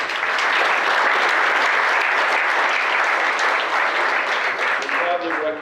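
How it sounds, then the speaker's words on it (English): An audience at a Veterans Day ceremony in Fort Walton Beach, Florida, applauds in a dense, sustained burst of clapping that holds steady and then thins toward the end, with a voice briefly heard near the close. "Round of applause."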